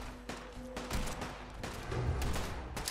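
Gunners open fire in Fallout 4, a dense burst of rapid automatic gunshots crackling continuously at mid distance, with overlapping volleys and a steady loud rattle throughout.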